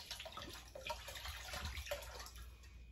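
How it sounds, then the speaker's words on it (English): Liquor poured from a bottle into a batch of coquito, a faint steady trickling and splashing of liquid running for a few seconds. "You might as well pour the whole bottle in there."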